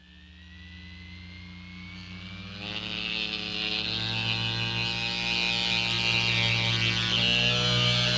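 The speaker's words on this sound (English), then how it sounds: "We duplicate this force in the laboratory by using human centrifuges." Human centrifuge in a laboratory spinning up, a steady mechanical hum that rises in pitch and grows louder as it accelerates, with a rushing roar building in the second half, no voices.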